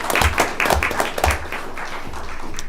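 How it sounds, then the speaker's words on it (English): Applause at a county commission meeting in a room of modest size: several distinct loud hand claps stand out early, then settle into a steady, even patter of clapping that carries on to the end. "Give him a round of applause."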